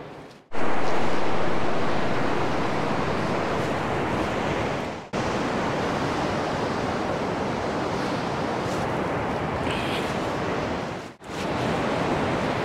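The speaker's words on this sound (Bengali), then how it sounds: "অলকানন্দা বয়ে যাচ্ছে, তার শব্দ আর হাওয়ার শব্দ" The Alaknanda river rushes beside a mountain trail while wind blows, a loud continuous roar of water broken by two short gaps, with no voices over it.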